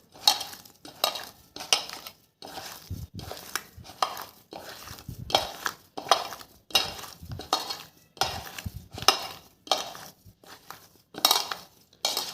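Fuchka filling being mashed and mixed by hand in a bowl, a steady run of wet squelching and light clinks against the bowl in repeated bursts, close and fairly loud, with no talking.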